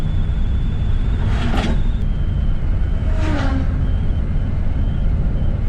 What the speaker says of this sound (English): This is a 1 liter 4-cylinder with an early fuel injection system from Volkswagen